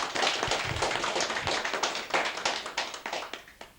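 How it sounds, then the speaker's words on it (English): A community audience in a hall claps, a lively spread of individual hand claps that thins toward the end with sharp separate claps standing out. "put their hands together and give a great round of applause"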